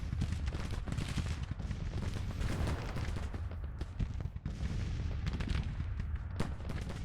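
A Civil War battle at Atlanta in the strategy game Grand Tactician: Civil War, with a dense rumble of massed musket volleys and artillery fire, continuous and layered, with sharper shots standing out from the din.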